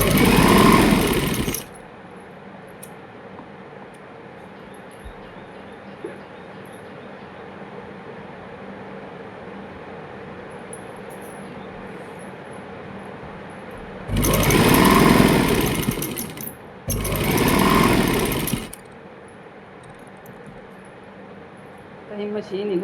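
An electric sewing machine stitching a kurti, its motor running in loud buzzing bursts with a rattle between stretches of a quieter steady hum, while a person talks.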